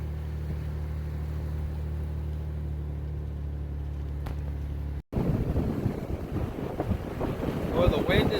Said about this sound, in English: Well, the wind is vicious.